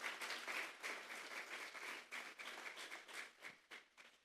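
A church congregation claps together as an offering of praise to God during a Sunday morning service, a dense, steady patter of many hands that fades slightly toward the end.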